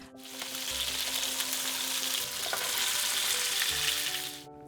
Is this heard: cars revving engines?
no